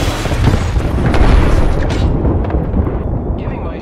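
An Arc Star grenade detonates in the Apex Legends game with a loud, sustained rumbling boom that fills the low end for several seconds, then slowly fades into a dense, noisy wash.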